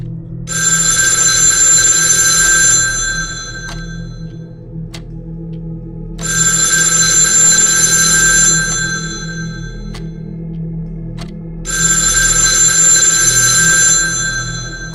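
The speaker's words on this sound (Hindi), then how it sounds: "हॉल में रखा लैंडलाइन फोन एक बार फिर से बजता है।" An old-style telephone bell rings in three long bursts separated by pauses, loud and close, with a low hum underneath.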